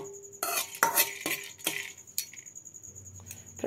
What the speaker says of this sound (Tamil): ஏலக்காய் நல்லா வறுபடணும், அதிலிருந்து நல்லா வாசனை வரும் வரைக்கும் நம்ம வறுக்கணும்